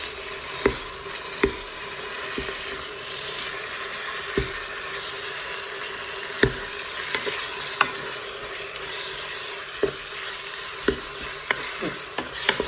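Bolognese sauce with minced meat frying in a Cookeo, a steady sizzle punctuated by regular knocks and scrapes of a spoon stirring against the pot, no voices.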